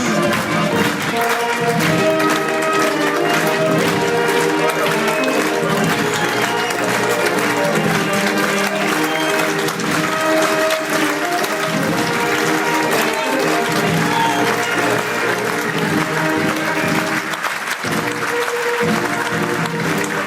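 A crowd applauds at the French national day parade in Paris for soldiers of the presidential guard of Kyiv, a dense continuous clapping mixed with music and cheering throughout.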